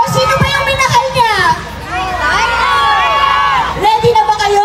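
A festival crowd in Bacolod during the Maskarra Festival screams and cheers loudly as actress Janine Gutierrez leaves the stage, high excited shrieks and whoops rising and falling in continuous waves close around.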